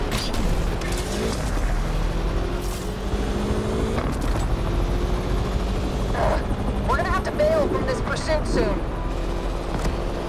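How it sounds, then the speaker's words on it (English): Police helicopter in Need for Speed Unbound keeps up a loud, steady rotor drone while sirens wail and cars roar past. Voices speak over the din. "Chopper on the scene, dispatch."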